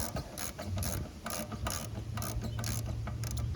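Ratchet working a belt tensioner loose on a 2001-04 Kia Rio, repeated bursts of fast close clicking in an uneven rhythm with short pauses, fairly loud with a low hum underneath.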